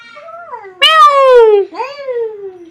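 A voice imitates a cat, giving a few drawn-out meows, one loud and sliding down in pitch, close to the listener.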